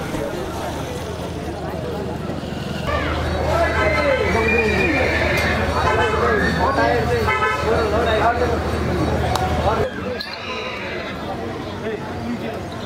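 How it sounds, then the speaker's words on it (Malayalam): Horses neigh and whinny at the Anthiyur horse fair, with loud calls close by amid crowd noise, distant vehicle horns and hoof clatter; people talk in the background. "ഇവിടെ ഈ ഓടിക്കാൻ അറിയാത്ത ആൾക്കാർ ഇതിൻ്റെ നമ്മൾ നടക്കുന്നതിൻ്റെ ഇടയിൽ കൂടെയൊക്കെ കുതിരനെ ഓടിച്ചുകൊണ്ട് വരുന്നുണ്ട്"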